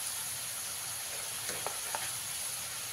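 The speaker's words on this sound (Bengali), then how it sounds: "এইভাবে অনবরত নাড়াচাড়া দিয়ে আলুগুলোকে ভেজে নিতে হবে" Shredded potatoes frying in hot oil over a high gas flame, a steady dense sizzle and hiss with a couple of faint clinks from stirring, close and continuous, no talk.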